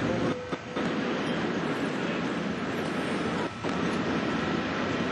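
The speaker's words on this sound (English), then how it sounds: "It's now time to cut the power to the traction motors and the train will slow down gradually." A record-speed high-speed train decelerates on rails after traction power is cut, heard as a dense, loud, continuous broadband rush of wind and rail roar with brief dips, and no speech.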